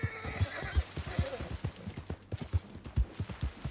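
A horse in the Western video game Red Dead Online whinnies loudly amid a steady run of clip-clopping hooves, close and rhythmic.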